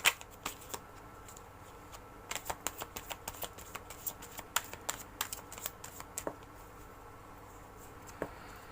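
Tarot cards being shuffled by hand in a quiet room, a steady run of soft, quick riffling clicks and flutters with a few sharper snaps, close and faint, no voices.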